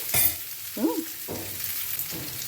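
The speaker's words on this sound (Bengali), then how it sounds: "এই যে পেঁয়াজটা দিলাম, এর মধ্যে রিং করা পেঁয়াজগুলো।" Ring-cut onions fry in a covered pan with a steady sizzle, broken by a few brief stirring scrapes and clatters close by.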